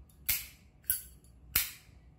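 Three sharp, bright metallic clicks from a genuine brass Zippo lighter lid snapping open, spaced about a second apart, close and clean against near silence.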